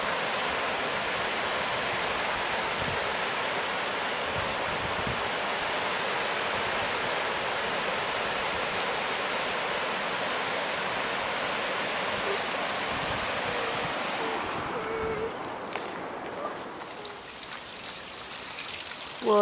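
Water seeps trickle near the Pit River dam in winter, a steady, hissing wash of running water that continues evenly and then thins slightly near the end.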